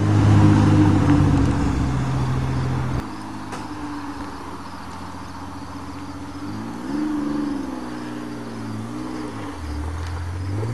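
Pontiac Fiero V6 engine driving, a loud close drone that drops as the car shifts gear and then rises and falls again with changing revs.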